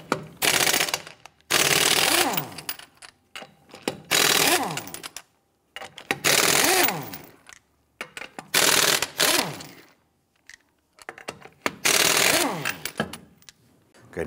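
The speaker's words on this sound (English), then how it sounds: "Using your 21mm socket, loosen and remove the lug nuts." An impact wrench loosens the lug nuts on the rear wheel of a 1992-1996 Toyota Camry, firing in five loud, rattling bursts of roughly a second each, separated by short quiet gaps.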